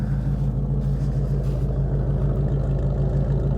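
A V8 engine idling steadily just after a cold start, a deep, even low rumble with a regular pulse, close up and unbroken, no voices.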